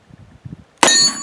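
A bullet from a double-action handgun strikes a metal gong target outdoors, giving one sharp, loud clang that rings on briefly after a few soft low thumps.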